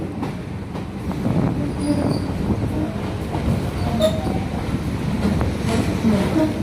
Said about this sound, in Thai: วันนี้ตีคู่กันมา ขบวน 356 และ 372 แต่เข้าคนละฝั่ง